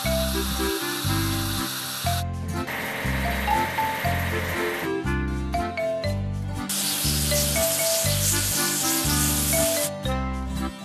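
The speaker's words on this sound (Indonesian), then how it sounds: "Sekarang, ayo cuci mesin penanam benih." Washing a seeder machine in the farming game Agro Trucks: bursts of hissing spray noise come and go over a loud, steady, beat-driven game music loop that dominates throughout.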